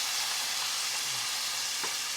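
Toasted golden-brown rice sizzling steadily in a pan as tomato puree goes in, a dense continuous hiss with faint stirring scrapes, close and alone.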